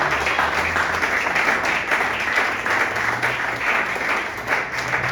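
Congregation in a church service applauding in praise, a dense, sustained wash of clapping from many hands, steady and fairly loud throughout, with a low murmur of voices beneath.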